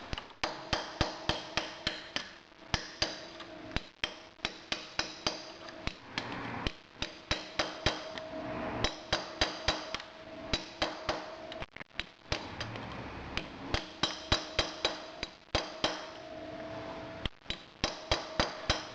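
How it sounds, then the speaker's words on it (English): Hammer tapping a metal chisel wedged between a nut and washer on a 2012 Triumph Bonneville front sprocket, a rapid series of sharp, close metallic strikes in quick bursts with brief pauses between them. "I'm going to use this metal chisel and I'm going to put it in between the nut and the washer, and I'm going to tap it with a hammer"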